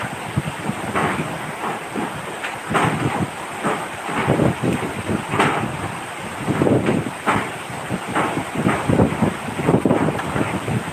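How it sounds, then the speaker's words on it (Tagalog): Typhoon winds roar loudly by the sea, buffeting the microphone in heavy continuous gusts with rumbling surges and no voices. "Grabe, lakas ng hangin."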